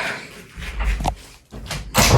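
A door is pushed shut indoors during cold weather, with a couple of muffled knocks and scrapes followed by a fuller thud near the end, loud and close.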